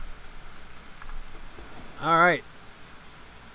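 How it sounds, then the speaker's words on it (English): Steady rain hiss falls in the jungle survival game Green Hell, a soft, even wash of drops running through the whole stretch while someone says a single word over it partway through. "It's raining."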